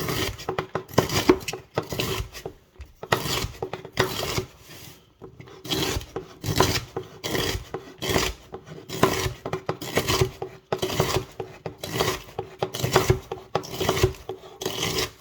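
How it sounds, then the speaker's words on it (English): A big kitchen knife chops rhubarb stalks on a flexible cutting board, a steady run of quick crunching cuts and knocks on the board, close and clear, with no talk. "Get you a nice big kitchen knife, and you're just gonna come down through it, chop it up."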